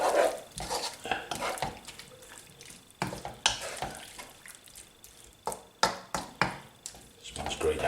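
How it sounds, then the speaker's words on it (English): Spoon stirring fresh coriander through a paneer makhanwala curry in a pan, with soft scraping strokes and small wet clicks repeating irregularly, fairly close and moderately quiet. "I give that a little stir in"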